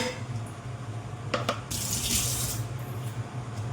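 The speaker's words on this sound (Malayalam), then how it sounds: "ചട്ടി നന്നായിട്ട് തേച്ച് കഴുകിയെടുക്കാം." A clay cooking pot is scrubbed and rinsed in a kitchen, with steady running water from a tap, a couple of sharp scraping knocks, and a louder splashing gush partway through.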